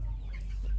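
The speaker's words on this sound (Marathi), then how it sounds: "अंड्यासाठी हा कावेरी पक्षी एकदम खास आहे मित्रांनो" Kaveri breed chickens, an egg-laying breed, cluck on a poultry farm, steady and fairly close over a constant low background hum.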